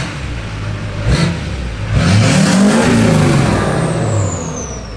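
A stock turbo diesel truck fitted with a 5-inch straight pipe and resonator delete revs up, its deep exhaust roar swelling loudly nearby before easing back, with no talking.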